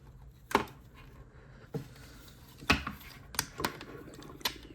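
Plastic parts of an Age of the Primes Big Convoy toy figure are flipped and snapped into place, a handful of sharp, close clicks spaced irregularly over quiet, with no talking.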